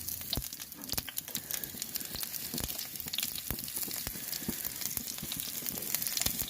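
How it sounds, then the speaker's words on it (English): Garlic and onions sizzle steadily in a little olive oil on a hot salt block, a soft continuous crackle with scattered sharp pops, close and fairly quiet with no voices. "Put them on there, you see them sizzling away already."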